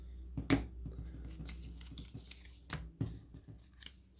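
Playing cards shuffled by hand for a tabletop baseball game, a few crisp riffling bursts and snaps spread over a few seconds at close range, with quiet room hum underneath.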